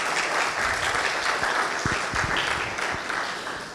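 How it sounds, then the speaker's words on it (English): An audience at a university demo day event applauds, a dense, even wash of clapping that holds steady for several seconds before tapering slightly. "Another round of applause for him, please."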